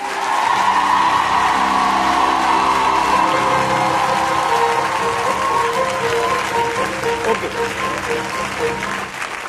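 A church congregation applauds and cheers loudly and continuously, a dense wash of clapping with shouts and whoops that holds steady and then slowly thins out.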